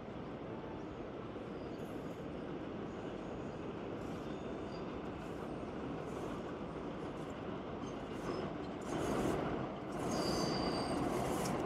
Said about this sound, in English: The rumbling you probably hear in the background is the 4 train